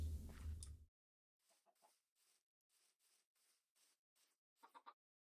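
A baby chicken in Minecraft clucks in a series of soft, short, evenly spaced clucks that come in after a louder burst of other game noise, faint and isolated.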